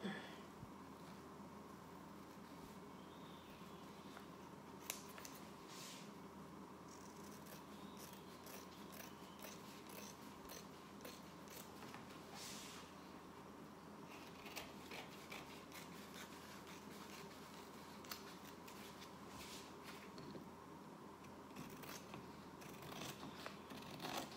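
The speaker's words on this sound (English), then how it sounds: "let's just use our scissors for that one because that kind of slid a little bit" Scissors cut out a wallet pattern piece, giving faint, scattered snips and rustling against a quiet background over a long stretch.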